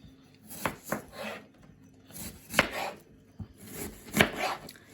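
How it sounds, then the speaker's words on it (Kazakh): Onion and garlic are finely chopped with a knife on a board, giving quiet, close, irregular clusters of crisp knife strikes separated by short pauses, with no talk. "Жуа және 3 бас чеснокты ұсақтап тураймыз."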